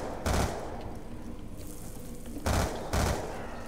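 Shotgun gunfire in the video game Black Ops 2 Zombies, three loud booming blasts, one early and two close together near the end, over constant game background noise.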